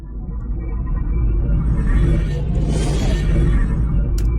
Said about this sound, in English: And then we have this build-up layer that sounds like this.